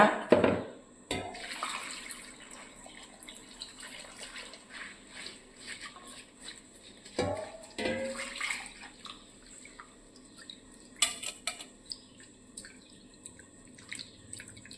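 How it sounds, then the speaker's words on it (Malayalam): Water is poured into a cooking pot of chopped ingredients in a home kitchen, with splashing bursts and trickles alternating with drips and quieter gaps. "ആവശ്യത്തിന് വെള്ളം ഒഴിക്കുക"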